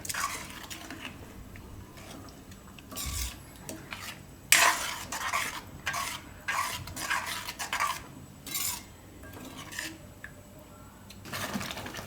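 Masoor makhni simmering in a pot while a metal spoon stirs it, giving intermittent scraping and clinking bursts against the pot over a faint low bubbling background, close and moderately quiet.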